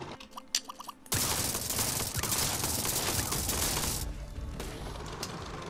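Hawkeye machine guns on vehicles in the multiplayer game TerraTech, firing as a loud, continuous rattling barrage after a short quieter opening of scattered clicks, then easing off near the end.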